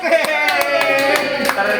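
A family group at a parish prayer gathering clapping hands in a short, fairly regular run of claps, while a sustained musical or vocal tone lingers underneath.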